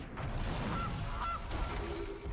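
A goose honk sound effect from the Magic: The Gathering card video game: two short nasal honks in the middle of a brief, busy game soundscape with a low mechanical rumble underneath.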